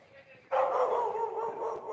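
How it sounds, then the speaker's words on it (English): A puppy barks close by, a single sustained yelping bark that trails off into a whine. "It's a puppy."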